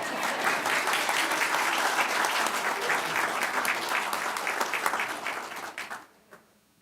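Audience applause fills a room at a New Year's burning ceremony, steady and full for about six seconds before tapering off quickly into near silence.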